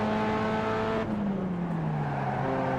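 A Pontiac Solstice race car in iRacing's Grand Tour Cup powers out of a corner at Road Atlanta in second gear with wheels spinning, its engine droning loud and close, the pitch dropping briefly before pulling on.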